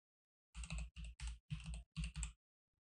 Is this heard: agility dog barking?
no